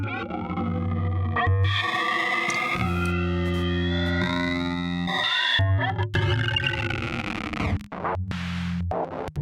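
Dense electronic synth tones from a filter-bank module on an ER-301 sound computer, resonant filter bands sliding and sweeping in pitch, shifting abruptly between chords, loud and continuous.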